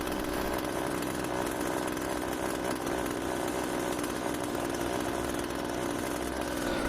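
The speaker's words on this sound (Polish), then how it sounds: "pilarka przejdzie w tryb biegu jałowego" An Oleo-Mac GS371 petrol chainsaw engine runs steadily and loudly at a low, even idle, with a constant buzzing rattle and no revving.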